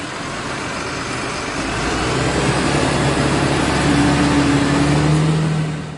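A bus travelling toward a nearby town gives a steady, loud engine and road rumble with a rising whine near the end, heard alone throughout.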